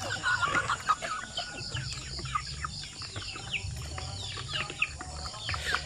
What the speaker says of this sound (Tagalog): So meaning, in demand yung ating mga native chicken.